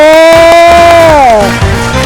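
A cheerful, sustained children's 'yay' rings out over a few sharp claps during a kids' ball-tossing game, loud and close, then fades slightly.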